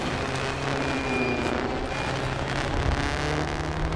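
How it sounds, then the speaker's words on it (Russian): A vehicle engine in the video game Trailmakers roars steadily at high speed, a dense, continuous drone with no speech over it. "Мне кажется, что этот двигатель вообще с ума сошел."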